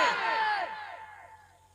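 A gathering at a religious sermon on Karbala shouts the Nara-e-Takbir slogan, a single loud massed cry of many voices that rings out and then fades away.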